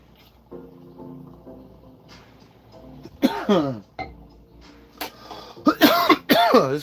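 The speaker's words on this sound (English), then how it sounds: "This cough is because I had a cold." Two bursts of loud, close coughing, a short fit and then a longer harsher one, from a person with a cold, with quiet musical background beforehand.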